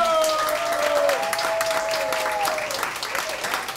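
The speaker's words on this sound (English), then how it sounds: "Let's give the restaurant a big round of applause." A crowd applauds steadily, dense clapping filling the room, with a voice talking briefly over it.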